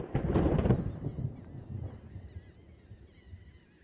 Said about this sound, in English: the air is saturated with the calls of thousands of birds